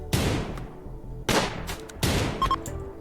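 Combat gunfire in the video game RimWorld, three sharp loud gunshot bursts spaced about a second apart, each followed by a decaying rattle and echo, with a few faint clicks between.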